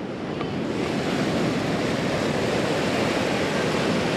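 Surf rolls steadily onto Melasti Beach in Bali, a continuous broadband wash of breaking waves mixed with wind noise on the microphone, with no voices.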